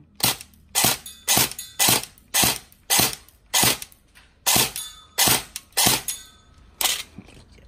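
An M4A1 airsoft rifle (E&C 301, upgraded with a 6.02 AEC tight-bore barrel and PDI hop-up rubber) fires a grouping test: about seventeen sharp, loud single cracks at an uneven, quick pace, each with a short tail and nothing else in between.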